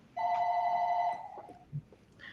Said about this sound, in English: Get that phone, MK.